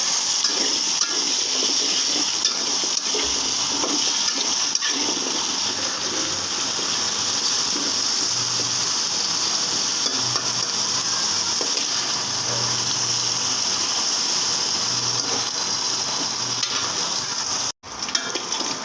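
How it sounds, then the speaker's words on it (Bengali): Potato pieces fry in hot oil with salt and turmeric, a loud, continuous close-up sizzle and crackle running steadily throughout, briefly interrupted by a sharp knock near the end. "এখন আমি আলুগুলো ভেজে নেব তেলের সাথে লবণ আছে হলুদ আছে আলুটা ভেজে উঠাবো"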